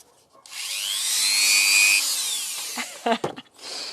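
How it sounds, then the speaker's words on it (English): An electric drill whirs up and grinds steadily into pumice stone for a couple of seconds, then sputters into scraping bursts as it eases off. "In this case, I'm using a drill."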